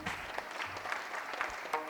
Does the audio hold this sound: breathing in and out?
no